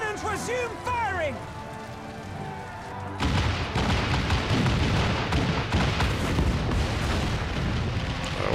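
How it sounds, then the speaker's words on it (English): Heavy booming cannon fire in Final Fantasy XIV erupts in dense, continuous rumbling volleys after a quieter opening with voices, the barrage loud and sustained. "All cannons resume firing!"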